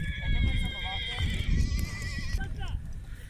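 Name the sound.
horses neighing at a kopkari horse game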